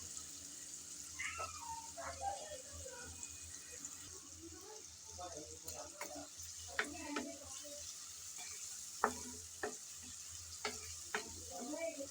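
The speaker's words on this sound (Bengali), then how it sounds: "নেড়ে চেড়ে হালকা ব্রাউন কালার করে পেঁয়াজ আমি ভেজে নেব।" Onions are stirred and fried in a pan until light brown. A soft, steady sizzle runs throughout, with scattered light spatula taps and scrapes and faint talk in places, all fairly quiet.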